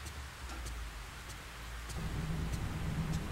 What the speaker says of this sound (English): Alright, so all we hear is the rain.